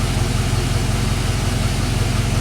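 A Chevy Silverado engine with a knock runs close up, giving a loud, steady low rumble with a rhythmic throb and no one talking.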